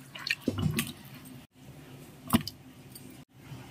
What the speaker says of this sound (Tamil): அதுக்கப்புறமா உருளைக்கிழங்கு சேர்க்க போகிறேன்.